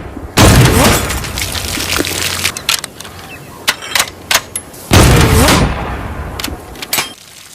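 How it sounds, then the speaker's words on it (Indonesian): Test gunshots fired at a shooting range in a film scene, two heavy loud booming reports several seconds apart with shorter sharp cracks and clatter scattered between them, close and dominant. "Bob menguji beberapa tembakan di sebuah lapangan"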